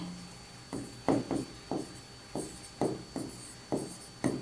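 Handwriting while correcting a misspelled word, a series of about nine distinct, close scratchy pen strokes in an uneven rhythm, each short and crisp, with no speech over them.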